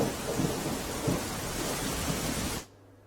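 Heavy downpour on Pavagadh hill in Panchmahal, Gujarat, roars as a dense, even wash of rain, with deep thunder rumbles swelling beneath it before the sound stops abruptly.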